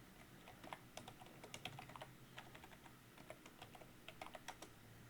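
Quiet, steady typing on a computer keyboard during a coding session, with irregular bursts of key clicks and no voices.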